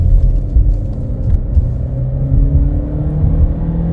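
A 2020 Ford Fusion SE with the EcoBoost engine accelerates hard, heard from inside the cabin as a loud, steady low engine rumble with a tone that climbs gradually as speed builds.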